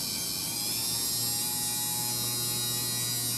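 A Dremel rotary tool held in a machine fixture runs at a steady speed, giving a continuous high-pitched motor whine with a low hum, alone and unbroken throughout.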